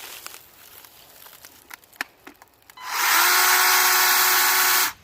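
A Makita 36v chainsaw starts cutting a piece of wood after a few faint clicks and handling noises, then roars loud and close for about two seconds before stopping abruptly.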